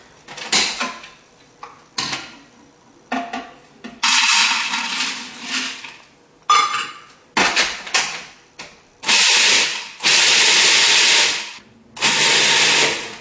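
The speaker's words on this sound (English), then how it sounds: "Now the first thing that we do is we grind up our almonds." Almonds grinding in a kitchen food processor for a cherry almond cake. Loud, close whirring bursts start and stop repeatedly, some short pulses and some held for a second or more, with no talk.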